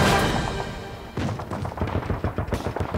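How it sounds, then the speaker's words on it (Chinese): Dense gunfire in a wartime drama battle scene, with a booming thud that fades and then a rapid run of irregular shots and thumps, fairly loud and free of speech. "外面枪声这么密"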